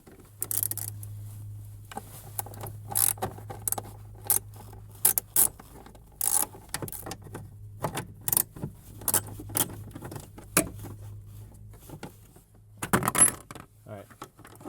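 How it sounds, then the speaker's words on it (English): Small metal clinks and ratcheting clicks from a 5/16 socket loosening three bolts on a Jeep TJ's fan blower resistor, coming in irregular bursts over a steady low hum. "All we need is a little 5/16 socket here. So there's, I believe, 3 bolts."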